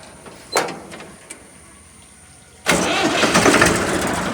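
An old tractor engine cranks with a couple of short bursts and quieter turning sounds, then catches and roars into a loud, steady running rumble close by.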